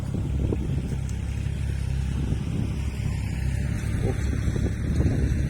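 A Kubota L3608 tractor engine runs steadily while leveling dumped soil at a fill site, a continuous low rumble with slight load variations, close by and alone.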